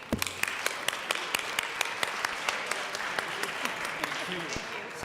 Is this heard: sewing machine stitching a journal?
no